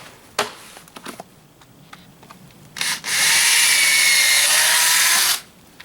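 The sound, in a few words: power drill driving screws into post protector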